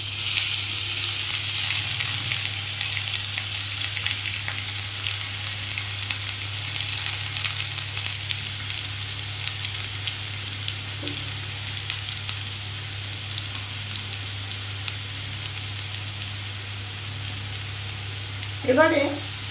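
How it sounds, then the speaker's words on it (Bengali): Chopped bottle gourd frying in ghee in a wok over a low flame gives a steady, close sizzle and crackle that runs continuously, with a low hum beneath and a brief stirring scrape near the end. "আমি এই যে ছোট করে কুচি করে কাটা লাউটা ওর মধ্যে দিয়ে ভালো করে ভেজে নেব।"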